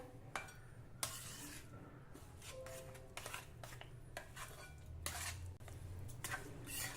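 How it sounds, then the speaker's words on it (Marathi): Besan ladoo mixture is stirred with sugar syrup and cardamom powder in a bowl. Quiet spoon clinks and scrapes against the dish come in irregular bursts, close by, with no talking. "आता आपण हा पाक या बेसनाच्या मिश्रणामध्ये ओतून घेऊया अर्धा टीस्पून वेलची पूड घालू आणि हे मिश्रण नीट मिक्स करून घेऊया"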